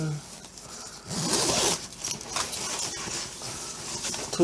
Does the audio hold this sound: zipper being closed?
yes